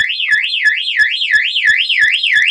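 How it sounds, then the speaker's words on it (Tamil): A Zion burglar alarm siren sounds after a PIR sensor trips, giving a loud, steady warbling wail that rises and falls about every third of a second with a faint tick on each cycle. "ஸோ இங்கே வந்து அலாரம் இண்டிகேஷன் இருக்கு, அலாரம் அடிக்குது"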